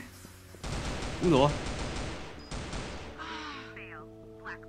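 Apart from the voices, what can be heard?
RPK Fire Dragon machine gun firing in CF Mobile video game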